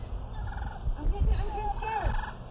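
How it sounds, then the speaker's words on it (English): Wild turkey gobblers fighting outdoors, a brief rattling gobble rising over scuffling and thumping, close and fairly loud. "Have you ever seen a couple of gobblers fight?"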